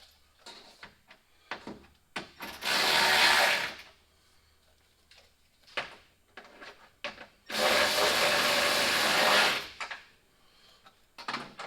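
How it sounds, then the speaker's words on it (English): A Trinity rechargeable cordless ratchet spins bolts on Mack Granite dump truck headlights, two sustained whirring runs of a few seconds each, close up, with clicks, taps and handling clatter of parts around them. "Get my Trinity Dandy rechargeable ratchet."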